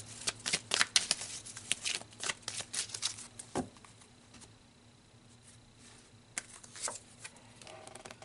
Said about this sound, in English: So let's pull another card here.